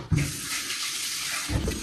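Tap water runs steadily into a sink while a cooking pot is washed, a continuous close splashing hiss with a couple of louder knocks or sloshes near the start and end.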